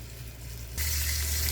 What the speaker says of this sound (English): So it is sizzling now